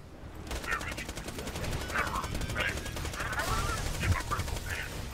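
Auto cannons in Borderlands 2 fire in a steady, rapid stream of loud shots, with honking, squawking calls rising over the barrage and speech mixed in.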